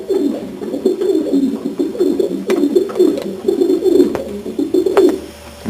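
Janssen racing pigeons cooing steadily in a loft, a dense overlapping chorus of low throaty coos close by, with a few sharp clicks and wing or foot knocks scattered through.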